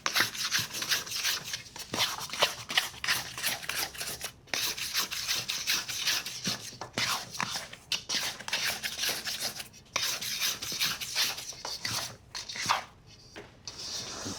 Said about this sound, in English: And then tuck the dough in with your scraper all the way down.